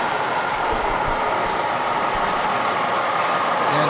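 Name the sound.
HO scale model train passing on layout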